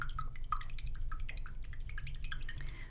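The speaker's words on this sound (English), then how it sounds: "Let's wash this brush." Light splashing and dripping as a paintbrush is rinsed in water, a quick irregular patter of small liquid ticks over a low steady hum, close and fairly quiet.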